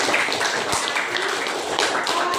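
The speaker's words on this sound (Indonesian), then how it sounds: "tepuk tangan untuk Selo teman-teman" Applause from students in a classroom for a classmate, a thin, steady patter of clapping hands with a few sharper taps, moderately close and lasting the whole moment.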